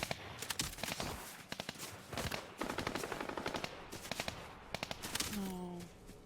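Rapid bursts of automatic gunfire in a Fortnite match, faint and distant, coming in clustered volleys with short gaps, joined near the end by a brief voice.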